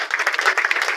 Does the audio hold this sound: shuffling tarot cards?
no